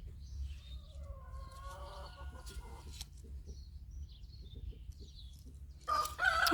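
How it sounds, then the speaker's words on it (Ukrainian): A rooster crows in a garden in late April: a drawn-out, moderately faint crow over a low background hum, followed by quieter scattered sounds and a short burst of louder noise at the end. "Ну, неможливо нічого відзняти з цим півнем."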